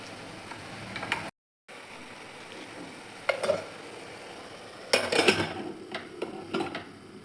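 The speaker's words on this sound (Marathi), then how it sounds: "आता कुकरचं झाकण लावून घेते" Several sharp metallic clanks and clicks of a pressure cooker lid being closed and locked, close by, over a low steady kitchen hiss.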